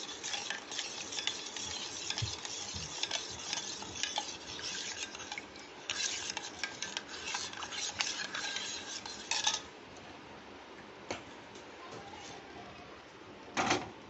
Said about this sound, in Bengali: এইগুলো সব একসাথে মিশিয়ে নিচ্ছি। ভালো করে চিনিটা মিশিয়ে নিচ্ছি।